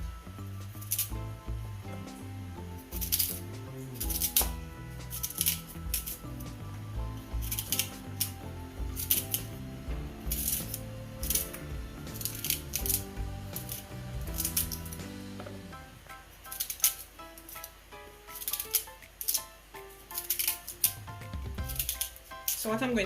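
June plums being cut up for homemade juice: repeated crisp slicing and snipping sounds in irregular bursts, close up, over a background of soft music.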